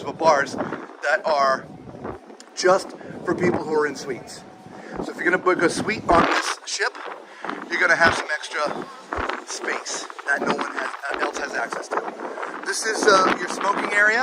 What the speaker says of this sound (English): we're sorry about the wind.